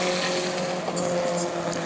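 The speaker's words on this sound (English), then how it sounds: "So here comes Brandon Monroe to complete lap number 2" Race car at speed on a short oval during a Bomber A qualifying lap at New Smyrna, a steady loud engine drone held throughout under continuous crowd and track noise.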